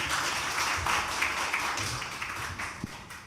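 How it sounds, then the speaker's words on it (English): Applause from an audience at a talk with two authors, steady clapping that fades slightly toward the end, with a few sharper individual claps near the close. "Let's give them another round of applause and we get started."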